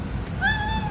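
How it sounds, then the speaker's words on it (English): A pet cat lets out a single clear, rising meow close by, over a low steady background hum. "Oh my goodness, that's my cat."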